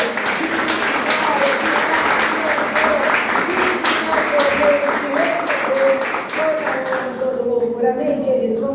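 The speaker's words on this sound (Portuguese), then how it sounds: "Vamos aplaudir o nosso Deus" A church congregation at a praise and worship service applauds in steady, rhythmic clapping over sustained music, with the clapping thinning out near the end.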